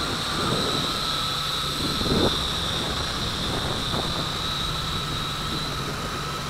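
An RC Leading RC109F large FPV drone fitted with prop guards, flown on high rate in strong wind over a gully, gives a steady high-pitched propeller whine with a persistent tonal drone throughout.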